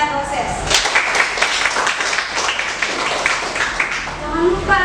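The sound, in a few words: applause for students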